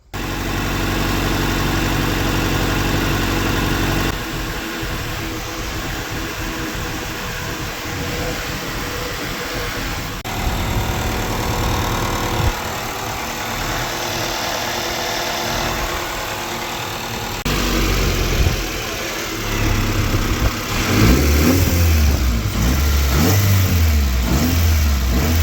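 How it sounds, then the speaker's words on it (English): A Mini with a VTEC engine swap running while its cooling system bleeds, idling steadily with a deep, close drone, then revving in several rising and falling blips toward the end. "let the car run and bleed it out."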